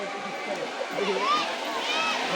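Spring-fed stream water rushing steadily at Muktai waterfall, a continuous broad wash of flow with voices talking over it throughout.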